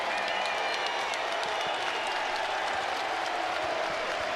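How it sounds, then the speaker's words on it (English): A packed basketball arena crowd roars and applauds steadily for a player at a college game, a dense, continuous wall of cheering and clapping with no pauses. "And there's a big roar for Darnell."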